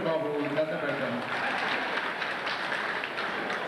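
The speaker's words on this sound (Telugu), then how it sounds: "ఆ చప్పట్లు కొట్టండి బాబు" Audience clapping at a public meeting where Telugu film actors including Prakashraj, Raasi, Srihari and Brahmanandam appear, a steady moderate wash of applause lasting several seconds with faint voices underneath.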